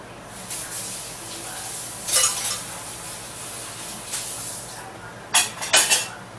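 Dishes, pots and pans being cleaned up in a small kitchen while steak cooks, with faint clinks and clatters over a steady background hiss, rising to a few louder bursts of rattling near the end.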